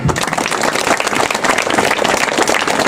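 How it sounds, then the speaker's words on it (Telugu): Students at a high school event clapping for their teachers: a dense, loud round of applause from many hands that stays steady throughout, with a faint murmur of voices underneath. "For your teachers, clap your hands."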